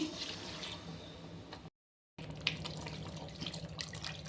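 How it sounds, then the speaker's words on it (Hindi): Water is poured into egg curry masala, giving a steady, close pouring and splashing sound that breaks off for a moment of silence and then resumes. "और अब मैं इसमें डालूँगी पानी"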